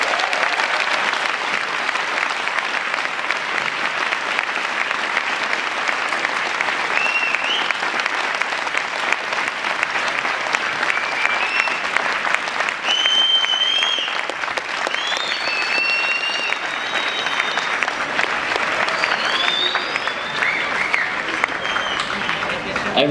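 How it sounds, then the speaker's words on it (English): Sustained audience applause fills the whole stretch, a dense, steady wash of many hands clapping at a ceremony, with a few voices calling out faintly above it. "Can everybody please give them a round of applause?"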